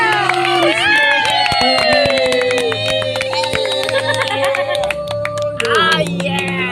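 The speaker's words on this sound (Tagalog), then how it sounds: "Palakpak!" A group of cousins and onlookers at a bottle-flip challenge clap and cheer in a lively, uneven burst close by, mixed with excited shouting and playful vocal sounds.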